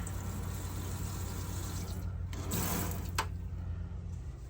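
Kitchen faucet running in a converted antique bus, a quiet, steady hiss of flowing water with a few brief clatters and a small click near the end.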